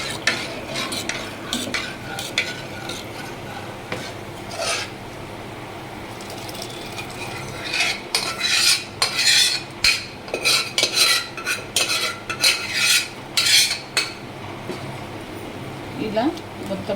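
A spoon stirs and mixes sambar ingredients, ground dal and sambar masala with coriander, in a pot, first as soft scraping, then as a rapid burst of sharp metallic clinks and scrapes, with someone talking.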